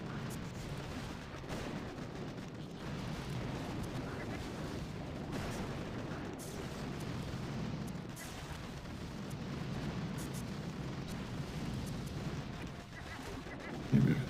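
Artillery barrage explosions in the Boom Beach video game: a sustained low rumble of repeated booms, fairly muffled and continuous, ending in a brief sharper hit, with speech running throughout.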